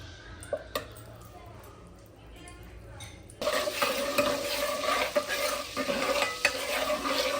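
Onion, capsicum and garlic frying in butter for pav bhaji: quiet stirring and utensil taps, then a loud steady sizzle begins when the pan comes alive, with spoon scrapes over it and no speech.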